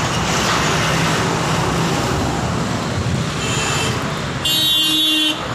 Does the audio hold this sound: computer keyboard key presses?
no